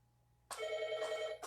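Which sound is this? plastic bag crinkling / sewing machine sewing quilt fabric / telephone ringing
telephone ringing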